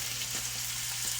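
Steady broadband sizzle of onions frying on a hot griddle beside smash burgers, continuous and close, with a low hum underneath and no talking.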